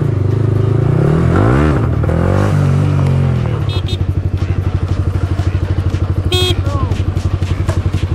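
A Yamaha R15M motorcycle engine close and loud, swelling through quick rising and falling revs before settling into a rapid, steady pulsing throb, with a voice briefly heard over it.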